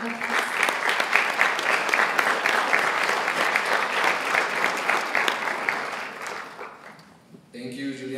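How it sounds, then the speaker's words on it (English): Applause from a crowd at a 2015 National Honor Society induction ceremony, dense sustained clapping at full volume that fades near the end, with a voice starting to speak as it dies away. "Give him a round of applause."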